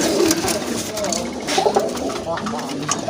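Pigeons coo softly and repeatedly at close range, pink-beaked crested birds held for sale at a Bangladeshi pigeon market, with someone talking over them throughout.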